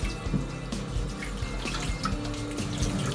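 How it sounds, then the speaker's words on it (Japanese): Gizzard shad fish rinsed under a strong stream of running tap water in a kitchen sink, a steady loud gush with small splashes and shifting flow, no voices. "これ洗うときはもうバーッと水で流しちゃって大丈夫"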